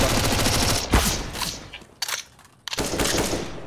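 Gunfire in Counter-Strike, a few sharp shots cracking in bursts amid dense game noise, with a brief lull before the firing resumes.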